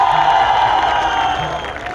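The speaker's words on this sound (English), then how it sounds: "Everybody, a big round of applause" Students at a closing ceremony applaud and cheer for the judges, a dense, steady wash of crowd noise with faint whoops rising through it.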